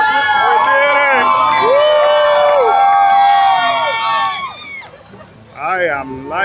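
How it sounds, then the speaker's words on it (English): A crowd at Splash Mountain cheers and whoops as a log boat comes down the final drop, loud close shouting and excited voices filling the air, fading briefly before another burst of cheering. "people are cheering on every single boat that comes down"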